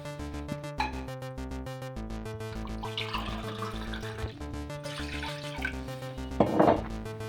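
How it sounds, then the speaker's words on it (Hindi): Water is poured into a cooking pot for an almond drink, a soft splashing rush in two stretches of a few seconds each, partly masked by louder background music. "मैंने एक भगोना लिया है, उसमें 2 ग्लास पानी ऐड करेंगे।"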